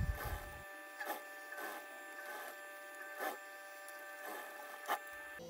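Sewing machine stitching along the seam edge to secure the lining of a summer dress, heard as short whirring runs with small pauses between them and a faint steady hum underneath.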